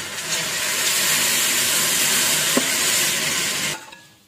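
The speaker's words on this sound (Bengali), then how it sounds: "অল্প অল্প জল দিয়ে দিয়ে কিন্তু এগুলোকে এইভাবে নেড়ে যেতে হবে।" Semolina upma cooking with vegetables, green chillies and salt in a pan while small splashes of water are added: a loud, continuous sizzling hiss with stirring scrapes, then an abrupt stop near the end.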